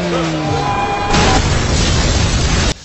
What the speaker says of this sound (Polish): wysadzenie helikoptera samochodem